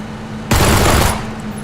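A burst of automatic gunfire in PUBG Battlegrounds, loud and close, a rapid volley of about half a second that starts abruptly and then fades into a short tail.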